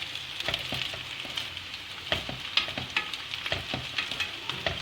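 Meatballs sizzle and crackle steadily in hot oil, with frequent sharp pops over a constant bright hiss, close by.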